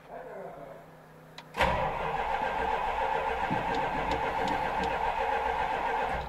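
An engine with a nearly empty carburetor, in a speedshop workshop, cranks briefly and then catches abruptly, settling into a loud, steady running drone close by for several seconds with no talk.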